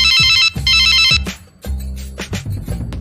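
A telephone rings loudly and close in two long electronic bursts, followed by quieter thuds and movement, with no talking.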